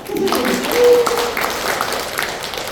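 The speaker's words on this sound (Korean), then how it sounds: "그럼 자축의 박수 한번 해주세요." Soft, steady applause from an audience at a Korean network-marketing seminar fills a short stretch, a diffuse patter of clapping with a voice briefly audible over it.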